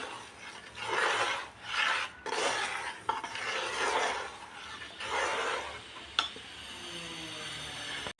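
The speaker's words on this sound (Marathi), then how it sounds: "बघा आपल्याला असं सतत हलवत राहायचं आहे" A methi laddu mixture is stirred continuously in a pan, giving repeated raspy scraping strokes in a steady rhythm with an occasional metallic clink, close and moderately loud, with no talk.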